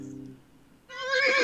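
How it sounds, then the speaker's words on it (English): A horse whinnies loudly and close in a single rising, quavering call that starts suddenly after a quiet stretch and fills the end of the sound, with no talking over it. "is that a horse I heard?"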